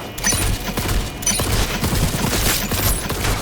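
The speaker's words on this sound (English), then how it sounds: "We can charge this one up and cause EMP explosions with our secondary fire." The Thunderstrike tech gun in Cyberpunk 2077 fires EMP shots in a dense, continuous barrage of crackling bursts and booms, loud and close throughout.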